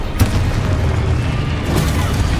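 Confringo spell blast in the Hogwarts Legacy video game, a loud booming burst at the start followed by a dense rumbling roar and a second impact near the end, with music or effects underneath.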